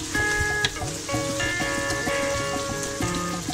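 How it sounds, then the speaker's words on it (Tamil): Green chillies, coriander and mint sauté in a pan for a coconut milk vegetable pulao, giving a loud, continuous crackling sizzle like rain, with tonal music-like sounds underneath. "பச்சை மிளகாய் கொஞ்சம் வதனோடனே கொத்தமல்லியும் புதினாவும் சேர்த்துட்டு நல்லா வதக்குங்க"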